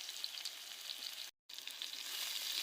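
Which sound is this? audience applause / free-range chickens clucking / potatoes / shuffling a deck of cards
potatoes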